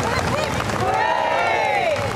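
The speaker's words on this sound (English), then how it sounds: "The crowd's cheering as her coffin left London." Crowd in London cheering as Queen Elizabeth's coffin departs, a loud dense roar of voices and clapping, with a rising and falling whistle-like tone sweeping through the middle.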